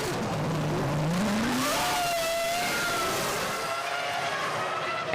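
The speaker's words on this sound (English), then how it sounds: "The engine noises are rising and the formation lap gets underway" Formula 1 car engines from the 2005 season rev loudly as the formation lap begins, a dense, continuous roar with rising and falling engine pitches sweeping past, close and unbroken.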